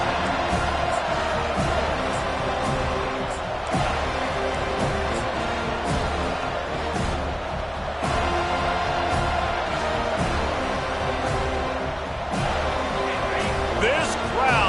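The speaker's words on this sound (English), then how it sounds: "This crowd, full throat, splitting the eardrums" A packed football stadium crowd at a Notre Dame versus Florida State game roars continuously at full volume, a dense sustained wall of cheering with scattered shouts, under broadcast commentary.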